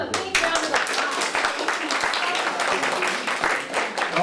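Children applauding a storyteller at a library, dense broadband clapping sustained throughout at a steady level, with some voices mixed in.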